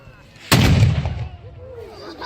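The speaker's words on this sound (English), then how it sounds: "What a noise for such a small gun." A small cannon fires once at a historical reenactment, a sudden loud close boom with a long rumbling decay that fades over about a second and a half.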